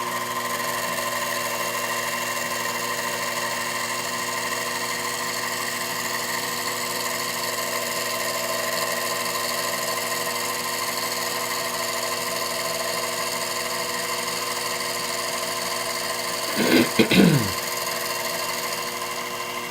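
A milling machine cuts into stock for a main mast head, giving a steady tonal machine whine with layered hum that runs unbroken. A short burst of louder cutting noise comes near the end.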